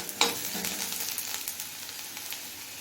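A medium chopped onion fries in oil until lightly browned, giving a close, steady sizzle with a sharp scrape of stirring near the start and softer stirring clicks after, no talk.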